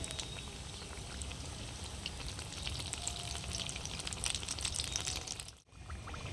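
Potato samosas fry in hot oil with a continuous crackling, bubbling sizzle heard up close, dipping briefly for a moment near the end before resuming.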